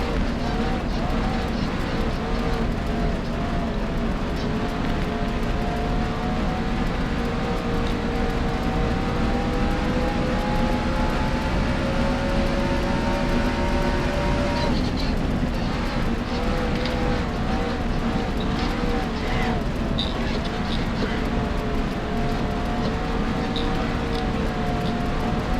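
Dirt-track race cars roar continuously around an oval at a motorsports park, a loud, sustained engine drone with pitch shifting as cars pass, without talk.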